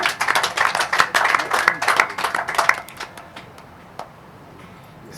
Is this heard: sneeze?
no